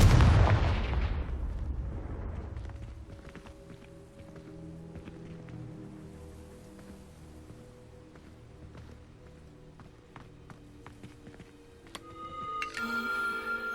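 Spell blasts in the Hogwarts Legacy video game open with a loud explosive burst that decays into rumbling debris, followed by quieter game ambience, scattered crackles and a rising chime of tones near the end, with no voices.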